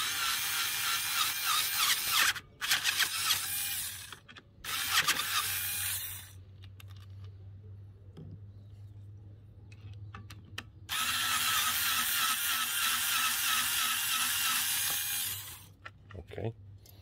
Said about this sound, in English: Then you can use your power tool to remove the screws.